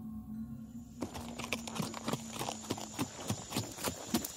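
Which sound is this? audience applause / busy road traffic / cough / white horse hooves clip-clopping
white horse hooves clip-clopping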